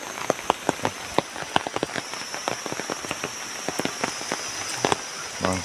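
Steady rain in a rural village during the rainy season, a dense close patter of drops striking surfaces, with sharper individual splats scattered throughout.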